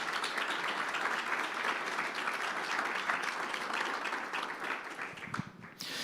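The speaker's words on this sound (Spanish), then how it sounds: "De un aplauso de alabanza al Señor" A church congregation claps in praise during a Spanish-language service, sustained dense applause that holds steady for several seconds before thinning out near the end.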